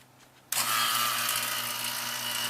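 A vacuum pump on a mini split air conditioner installation switches on abruptly and settles into a loud, steady high-pitched whirring hum with a low motor tone beneath, running continuously.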